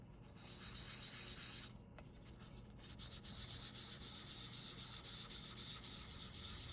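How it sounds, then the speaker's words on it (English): Wet sanding with a 2000-grit sanding sponge, a steady close rasping rub that runs continuously in back-and-forth strokes with a brief pause near the middle. "I'm going to be using sanding sponges."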